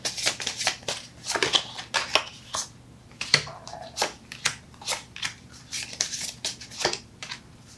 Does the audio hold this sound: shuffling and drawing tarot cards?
yes